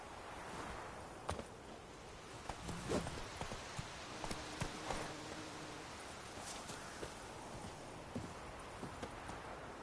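Horse hoofsteps from Roach in The Witcher 3 video game, a few irregular clip-clop thuds over a steady outdoor rustle and hiss, moderately near but not loud.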